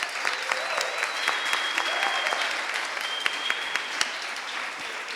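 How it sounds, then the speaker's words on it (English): Applause from an audience at a dance festival panel, continuous clapping at moderate volume with a few sharper individual claps standing out, plus a faint whoop or two. "Let's also give a big applause to Berlin Voguing Out and Mic Oala"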